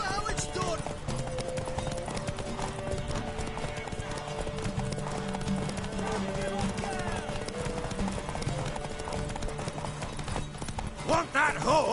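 Horse hooves clip-clopping in The Witcher video game, a steady rhythmic trot under game music with voices talking throughout and a brief whinny.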